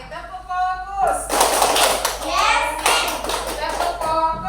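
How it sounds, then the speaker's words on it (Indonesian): A classroom of children claps in rhythmic bursts for a focus chant, chanted voices mixed between the clapping, close and fairly loud after a brief spoken cue. "Oke, tepuk fokus."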